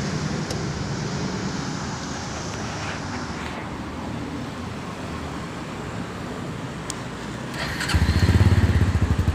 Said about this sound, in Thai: โอเคครับมาลองฟังเสียงเครื่องดู